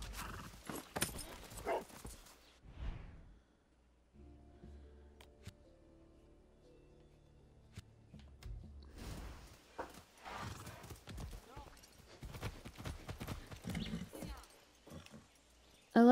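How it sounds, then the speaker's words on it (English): Horse hooves clip-clopping in the video game Far Cry 6, steady and fairly close, with a horse whinnying and game sounds mixed in, broken by a quieter stretch in the middle. "Oh, look at that, a horse for us."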